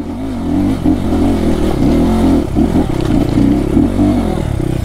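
A motorcycle doing a burnout on a dirt trail during a wild dirt ride, its engine revving hard and steadily with a loud, close, rough roar and clatter that rises and dips throughout.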